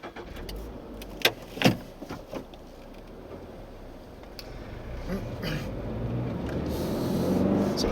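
Toyota GR86 sports car starting up outdoors near a beach, with a few sharp clicks and a brief engine catch followed by a low, steady idle that grows slightly louder and fuller toward the end.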